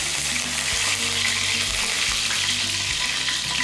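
Ingredients for a dry fish curry fry in oil in a pan, giving a steady, continuous close sizzle with occasional stirring clinks and no talking.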